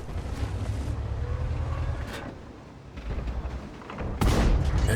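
A T-54 tank's cannon firing in World of Tanks on the Erlenberg map, with a low rumbling engine bed and a sudden loud booming shot near the end.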